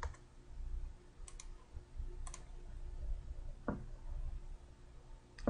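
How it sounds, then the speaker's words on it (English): Typing on a computer keyboard into a search window, a few light, scattered key clicks spread across several seconds, close and quiet over faint background hum. "just type it into the search window"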